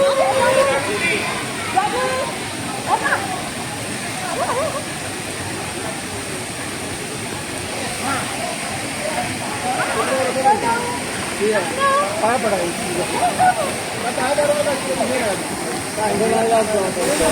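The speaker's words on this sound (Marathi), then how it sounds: "छान धबधबा आहे बाजूला छोटासा" A small waterfall beside the Hiranyakeshi river source at Amboli, Sawantwadi, rushes with a steady broadband roar in the rain, mixed with nearby chatter from tourists in raincoats throughout.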